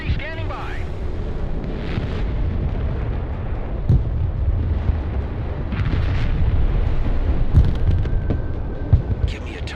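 Rocket artillery explosions in a video game, rolling rumbling blasts and low booms that swell midway, with sharp pops scattered across and someone talking over the barrage.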